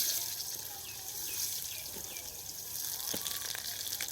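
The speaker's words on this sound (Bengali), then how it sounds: "বাকি তেলের মধ্যে 100 গ্রাম ঘি পুরোটাই দিয়ে দিয়েছি। এবার এখানে চালগুলো ভেজে নিতে হবে।" Rice frying in ghee and oil in a pan, a soft continuous sizzle and bubbling hiss, close and moderate in level, with faint bird chirps in the background.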